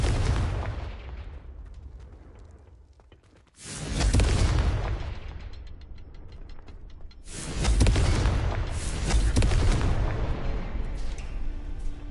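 The Confringo blasting spell explodes twice in the video game Hogwarts Legacy, each one a heavy, close boom with a long crackling rumble that fades slowly, separated by a few seconds of lower mechanical noise.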